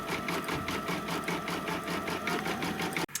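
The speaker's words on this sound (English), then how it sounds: "going to stitch the next 2 flowers" Embroidery sewing machine stitching a flower design for a round spring pillow, a steady fast mechanical whir with rhythmic needle pulses, close and loud, stopping abruptly near the end.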